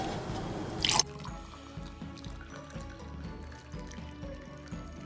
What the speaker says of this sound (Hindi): काढ़ा को मैं अभी ग्लास में डालती हूँ।